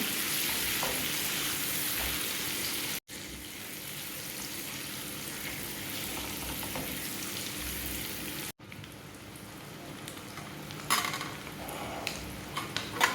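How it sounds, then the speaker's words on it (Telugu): Cut boiled eggs fry in hot oil in a pan until brown, giving a loud, steady crackling sizzle that continues without a break. Faint utensil clinks and brief taps near the end sit over the hiss. "ఈ మంచిగా బ్రౌన్ కలర్ వచ్చే వరకు వేయించేసుకోవాలి"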